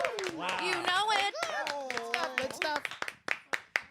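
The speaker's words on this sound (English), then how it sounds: "Here we are once more with applause" Applause in a radio studio with the Broadway cast of Some Like It Hot: several people clap briefly and unevenly, their claps mixing with excited voices and laughter before a few final sharp claps stand out.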